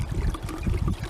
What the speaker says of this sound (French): si je mets ma tête là, je vais m'endormir avec le bruit du ruisseau